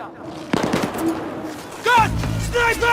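Gunfire crackles in Battlefield 3 combat, with sharp bursts of shots and a rattling automatic volley, loud and close, while a voice talks over the action.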